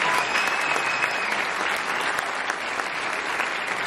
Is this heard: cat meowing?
no